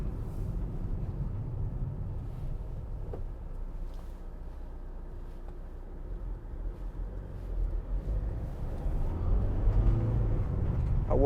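A 2014 Volkswagen Caddy 1.6 TDI C20 Startline van drives along with a steady, low engine and road rumble heard from inside the cab. The drone swells a little louder near the end.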